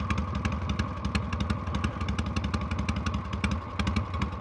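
1978 Harley-Davidson FXE Super Glide motorcycle engine running, a close, loud, lumpy rhythmic chug with steady pulsing beats and mechanical clatter, no talking.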